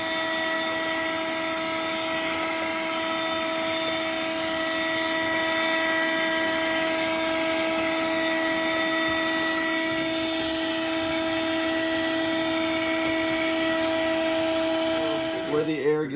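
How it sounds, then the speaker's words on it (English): A vacuum cleaner hums steadily while cleaning out the cabin air intake of a 2010 Toyota Highlander, a close, constant whine with a brief change in tone near the end. "I'm just going to vacuum out this area"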